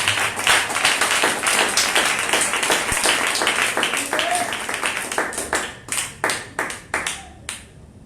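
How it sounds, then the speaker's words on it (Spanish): Church congregation applauding during a sermon, many hands clapping fast and loud, then thinning into a few distinct separated claps as it dies down near the end. "Dele una ofrenda de aplauso"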